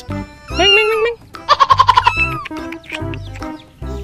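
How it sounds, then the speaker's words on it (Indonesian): Colorful rainbow chickens cluck and call at close range in a series of loud, bright squawks and a quick stuttering run of clucks, with short pauses between bursts. "Wow, ayam rainbow teman-teman, banyak sekali."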